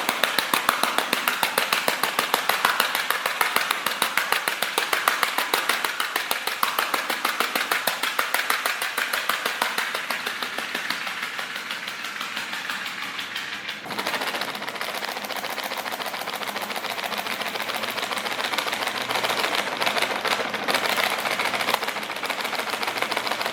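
A voice imitates an old treadle sewing machine by rapidly crinkling a plastic packet, giving a fast, steady mechanical chatter that runs loud and continuous for over twenty seconds with a brief hitch midway.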